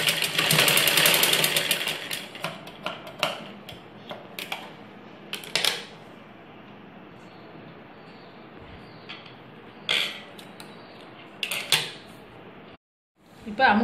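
A sewing machine stitching a ladies' blouse, a dense mechanical whirring run at first, then short intermittent bursts of stitching separated by quiet pauses.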